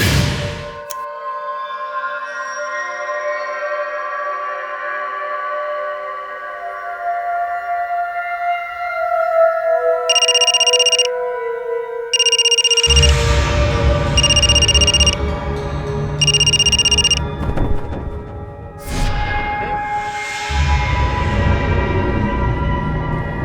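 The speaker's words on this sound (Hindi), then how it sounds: "मैंने उसके सेल से मेरे सेल पर फोन किया ताकि मैं सेफ बना रहूं।" A mobile phone rings with four evenly spaced bright electronic bursts, played over a tense dramatic music score in a crime drama.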